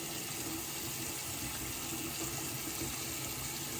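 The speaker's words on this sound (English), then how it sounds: "Having a hard time rinsing the stuff off." Running water pours steadily and fairly quietly, rinsing soap off skin, an even continuous wash with no breaks and no voices.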